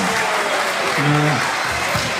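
A live audience at a show applauds a singer, giving dense, sustained clapping that fills the space, while voices call out over it.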